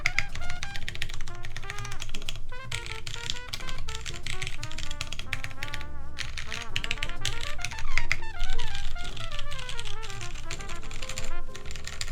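Typing on a mechanical keyboard fitted with MX Clear switches, a dense, steady run of crisp close clicks and clacks that keeps going without a break for several seconds.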